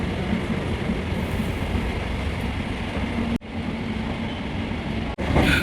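An almost empty passenger train runs toward Tumakuru on a cold day, giving a steady loud rumble and rattle heard from inside the carriage, broken by two sharp clunks, with no one speaking.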